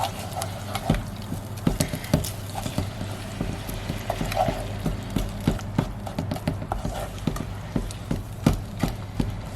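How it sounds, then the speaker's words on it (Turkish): A spoon stirs tomato paste into onions frying in a pan, giving repeated scraping clicks and knocks over a low steady hum, close and moderately loud, with no talking. "soğan kavrulurken üstüne salça ekliyorum. Şöyle dolu dolu bir e, yemek kaşığı salça ekliyorum ve güzelce karıştırıyorum"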